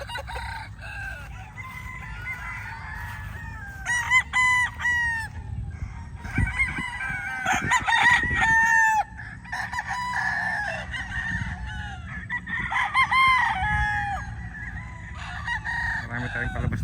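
Several local banded gamefowl stags crowing one after another and overlapping, loud and close, with clucks and yard murmur between calls.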